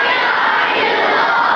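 A crowd at a gathering in Gujranwala chants a slogan back in unison, a loud and sustained roar of many voices.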